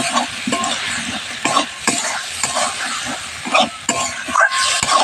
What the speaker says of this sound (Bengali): মশলার সঙ্গে মাছটা খুব ভালো করে কষিয়ে নেব।